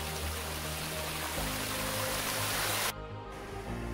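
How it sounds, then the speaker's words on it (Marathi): Waterfall on the Shivna river near its source in hilly country, a constant broad rushing roar of falling water at steady loudness, with a brief cut in the sound near the end. "देखा मित्र, शिवना नदीचा धबधबा."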